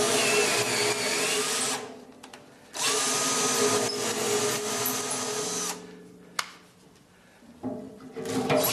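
A cordless drill tapping threads into pre-drilled holes on a model rocket build runs in long, loud whirring bursts separated by brief pauses, with a sharp click near the end before the motor starts again.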